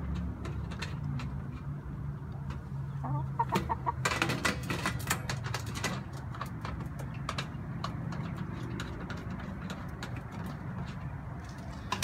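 Hens cluck and scratch close by beside a potbelly stove at an outdoor camp, with sharp pecking taps and brief flurries of movement standing out over a steady low background.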